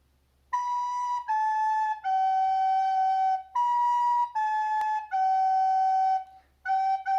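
A recorder plays the simple descending three-note phrase of Hot Cross Buns in a 4th/5th grade lesson, with clear steady notes and short breaks between them, including a quicker run of shorter notes near the end.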